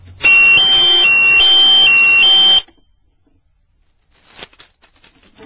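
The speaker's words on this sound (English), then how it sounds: "And I have a piezo buzzer and the light." Piezo buzzer on a homemade fire-alarm board shrieks loudly and steadily for over two seconds with a warbling tone, then cuts off, followed by faint handling sounds.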